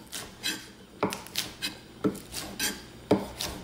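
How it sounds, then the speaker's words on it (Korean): Large green onion being trimmed by hand in a kitchen while making gochujang sujebi: close, rough rasping and rubbing strokes that repeat roughly once a second, with small clatters between them. "그럼 이동안 아까 전에 안 한 대파 손질을 할게요"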